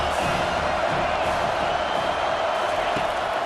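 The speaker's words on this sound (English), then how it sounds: "This crowd trying to make life miserable for this offense." A dense stadium crowd in EA Sports College Football 25 roars continuously at a steady level, a loud, wide wash of cheering and shouting with faint commentary beneath it.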